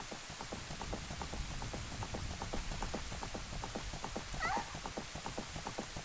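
Steady rain falls in Zelda: Ocarina of Time as a drawbridge comes down, a continuous wash of drops with soft patter throughout and a brief chirping tone near the end, no talking.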